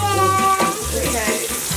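Tap water runs steadily into a kitchen sink while food is rinsed under it, a continuous splashing stream with some tonal ringing.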